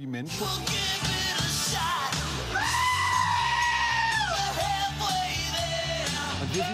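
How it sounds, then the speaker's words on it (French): Goats bleat in loud, wavering, human-like cries over a busy rock band backing, with one long sustained bleat in the middle. "Le bêlement de certaines chèvres ressemble à s'y méprendre à un cri humain."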